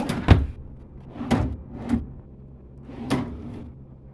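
A few wooden knocks and slides of a hotel-room chest of drawers being pulled and pushed nearby, spaced irregularly over a few seconds.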